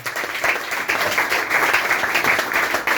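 A church congregation in Libreville, Gabon, claps for the Lord in a dense, continuous round of applause that swells and holds close by.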